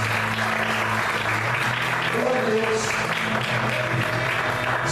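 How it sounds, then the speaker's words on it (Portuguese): A church congregation claps together in a steady, dense wave at an evening service. The applause is loud and continuous, and a voice speaks over it partway through. "Você pode aplaudir ao Senhor."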